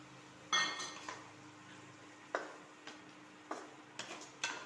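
A spoon stirring fried potatoes into chicken khichdi in a pot, producing soft scattered metallic clinks and scrapes over a faint background hum.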